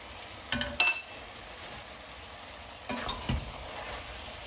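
Steak and onions stirred and fried with Worcestershire sauce in a pan, giving a soft steady sizzle with a few brief scraping and clinking bursts of the utensil against the pan bottom.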